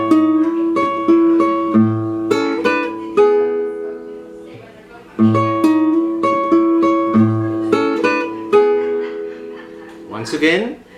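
Guitar plays measure 10 in swing rhythm, a steady run of plucked melody notes over sustained bass notes, the phrase repeating twice at close range with a brief scrape at the end.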